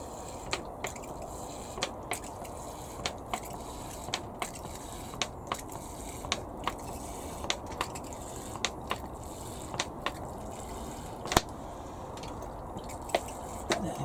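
Sown seeds are watered with a steady, close hiss of spray, broken by regular sharp drips and taps throughout, with no talking.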